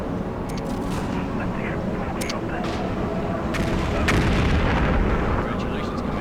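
Artillery in the MechCommander 2 strategy game pounds away as a dense, continuous roar of distant booming blasts, with several sharper cracking bursts standing out over the rumble.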